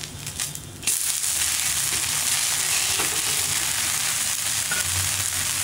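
Oats dosa fries in oil on a hot tava, a loud and continuous sizzle that starts abruptly and holds steady, close up, with no voices.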